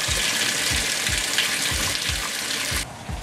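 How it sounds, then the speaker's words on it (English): Water gushes steadily into a washing machine drum, a loud continuous hiss and splash with a low rhythmic thumping beneath, cutting off sharply near the end. "Water. Look, it's like Niagara Falls."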